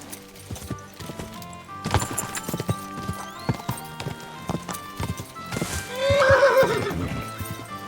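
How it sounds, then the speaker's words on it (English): A horse named Herring in Kingdom Come: Deliverance II clip-clops along in a busy run of hoofbeats, then lets out a loud, drawn-out whinny near the end, with the game's background sounds beneath. "Herring didn't like that, our horse."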